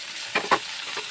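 Meat and liver fry in oil while being stirred, a soft steady sizzle broken by two quick close scraping strokes, with no voices.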